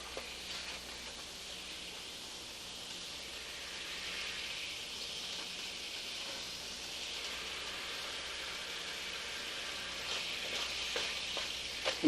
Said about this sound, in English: It sizzles more loudly, and it has reduced itself